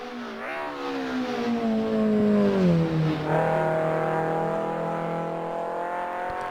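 A 1984 Ford Capri engine revs hard in the Assetto Corsa racing game at Bathurst, its pitch climbing, dropping sharply at a gear change, then holding a steady loud drone, close and continuous with no talk.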